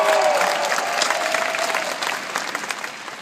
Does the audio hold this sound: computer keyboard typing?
no